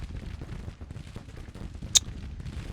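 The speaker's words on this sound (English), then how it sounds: "I guess my cannons must be kind of randomly exploding" A cannon blast in a Civil War strategy game rings out once, short and sharp, above a steady low rumble of distant battle.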